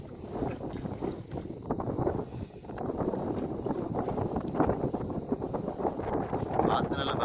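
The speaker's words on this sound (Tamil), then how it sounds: "காற்று நல்ல பலமாக தான் அடிச்சு கொண்டிருக்குது." Strong wind buffets the microphone continuously with a rough, gusty roar at a village paddy field, while a voice talks over it.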